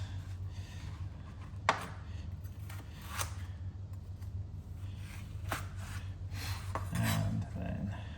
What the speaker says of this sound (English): cut this one down the middle, put it into strips